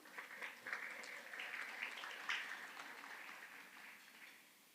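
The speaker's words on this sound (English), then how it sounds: "Round of applause for all of our friends who return." Faint, distant applause from an audience at an early math leadership institute, a soft patter of many hands lasting a few seconds before fading.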